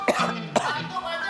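Two short, close coughs from a man, the second louder, with a voice lingering faintly in the background.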